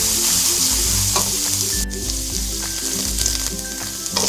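Beef stir-fries with garlic and onion in a hot pan for lumpia beef, a loud, close, constant sizzle broken by stirring scrapes and a brief metallic ring from a utensil.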